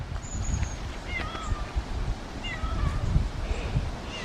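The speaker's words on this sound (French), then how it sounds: "Je sais pas qu'est-ce qu'il a ce petit chat là, mais on dirait il cherche quelqu'un." A small cat on a small farm gives several thin, high meows at a distance, with faint wavering cries over steady low outdoor rumble and noise.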